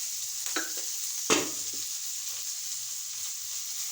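Onions with salt sautéing in a pan, a constant bright sizzle broken by a couple of sharp scraping stirs of the spoon, close up with no voices.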